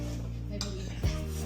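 A spoon stirs a chocolate mixture in a pot, giving metallic scrapes and a clink against the pot over a steady tonal hum, with a faint voice in the background.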